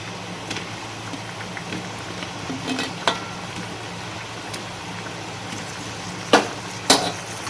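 Rohu fish roe fritters sizzle steadily in hot oil in a pan, with a few sharp clicks and scrapes as they are stirred and turned, close and alone with no talk.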